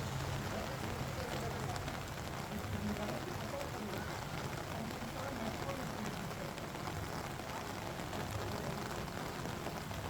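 Heavy rain pours steadily over Lucknow, a dense constant hiss of drops striking surfaces that carries on unbroken throughout.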